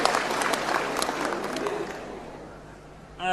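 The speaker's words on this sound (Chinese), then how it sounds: "掌声有请" A theater audience applauds as two female laosheng opera performers are invited onstage, a dense round of clapping that fades out over about two seconds before a loud new sound cuts in at the end.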